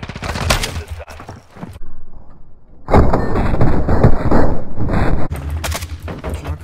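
Game gunfire in Modern Warfare 2, with loud shotgun blasts in close, rapid bursts broken by brief pauses, along with dense crackling shots from other weapons.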